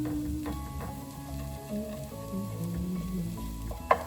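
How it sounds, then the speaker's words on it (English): Egg sizzles as it is sautéed in a pan in the middle of fried rice, a close, steady frying crackle with light scraping and a few ticks of a utensil. "I start sauteing it right in the middle of all that fried rice goodness"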